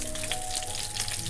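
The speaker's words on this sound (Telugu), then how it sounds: "ఎంతో రుచికరమైన crispy and spicy తిలాపీ గొరకల fry ready అయిపోయింది" Tilapia fish pieces fry in hot oil in a pan, a dense, steady crackling sizzle up close, with no talk.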